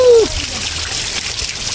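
Water splashing and pouring steadily up close during a trek up Raigad Fort, a continuous rushing wash with no pauses.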